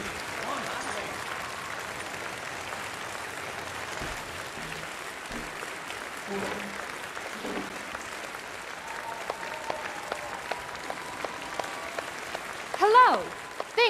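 Audience applause in the Red Dead Redemption 2 video game, a steady wash of clapping from a crowd that carries on through the stretch, fairly faint, with scattered sharper claps and some short game sounds near the end.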